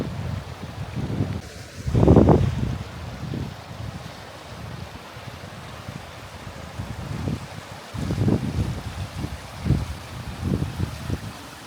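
Gusty wind blows outdoors across the Northumberland uplands, a steady low rumble of wind noise on the microphone with several stronger gusts swelling and fading, the loudest early on and more rising toward the end.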